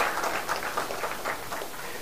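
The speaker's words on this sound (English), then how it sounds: "I think that deserves a great round of applause." Applause from an audience at an alumni reunion ceremony, a steady wash of many hands clapping, moderately loud and continuous.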